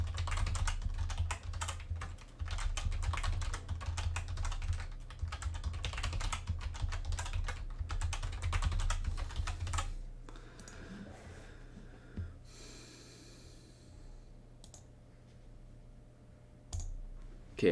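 A password goes in on a computer keyboard as a rapid series of close key clicks and taps, dense at first and then thinning out to sparse, scattered presses.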